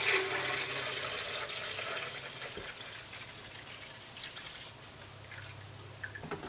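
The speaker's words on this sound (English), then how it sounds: "Now what we're going to do is rinse our blender out" Water splashes and trickles as a blender is rinsed out, with a steady running stream, faint dripping and a brief sharper splash near the end.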